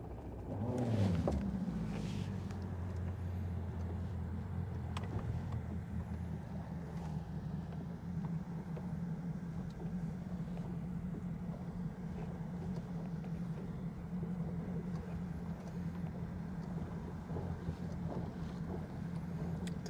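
Fishing boat on Lake Guntersville moving slowly, just above idle, with its trolling motor lowered: a constant low engine drone with wind rushing across the microphone, steady throughout.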